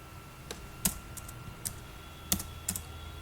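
An SQL insert statement typed on a computer keyboard: a few sparse, quiet key clicks with short pauses between them, close by and with no talking.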